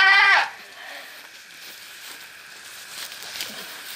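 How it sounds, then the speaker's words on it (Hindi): A goat gives one loud, harmonic bleat at the start while being pulled out of a well during a night rescue. Quieter rustling and distant voices follow. "बकरी निकल गई"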